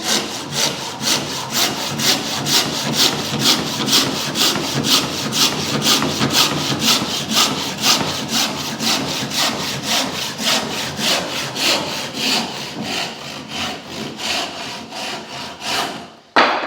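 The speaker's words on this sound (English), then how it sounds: "Okay, so we're going to cut a mitre on one end." A handsaw cuts a mitre across wooden skirting board in fast, regular back-and-forth strokes, a loud close rasping rhythm that runs about sixteen seconds before stopping abruptly.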